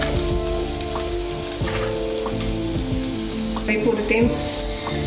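Spiced potato filling for a veg frankie roll, seasoned with coriander powder, garam masala and salt, sizzles steadily in a pan while being stirred, with soft scrapes over continuous frying hiss and faint background tones.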